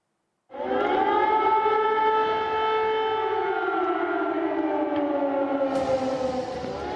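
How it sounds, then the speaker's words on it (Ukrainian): A civil defense air raid siren sounding across Ukraine, a loud, steady wailing tone with layered harmonics that holds for about six seconds and sinks slowly in pitch, with no talk. "По всій території України оголошена повітряна тривога"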